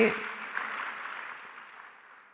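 A short burst of audience clapping during a church sermon fades away over a couple of seconds, thinning out toward silence.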